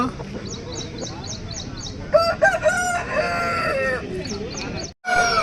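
A rooster at a rural poultry market in Mydukur, Kadapa district, crows loudly and nearby, with other fowl calling and a crowd murmuring in the background.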